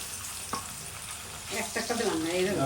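Hot oil sizzles in a pan on a home stove while Bengali curries are cooked, a steady close hiss that swells toward the end.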